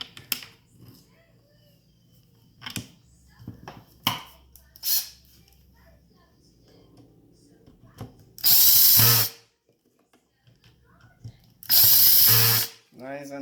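A power driver drives screws into the handle of a 16-inch electric chainsaw in two loud, close bursts of about a second each. Quieter handling clicks and taps come before them, and someone talks between.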